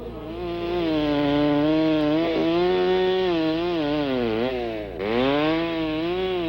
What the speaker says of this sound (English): A chainsaw speeds the work of a woodcarver who turns out hundreds of wooden discs